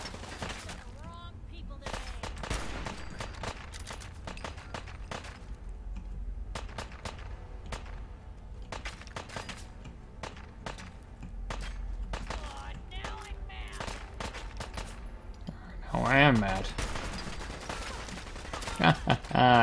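Rifle gunfire in Fallout 4, a run of sharp shots cracking one after another over game ambience, with a louder burst near the end and a voice talking over parts of it.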